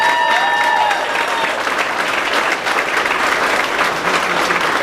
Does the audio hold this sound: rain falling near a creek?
no